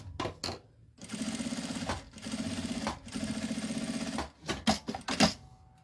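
Sewing machine stitching bias binding onto a wallet's zipper pocket, running in several fast mechanical bursts of about a second each, separated by short pauses and handling clicks, close and loud.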